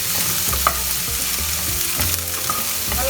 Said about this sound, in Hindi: हल्का सा कलर चेंज होने तक हमें फ्राई करना है प्याज का।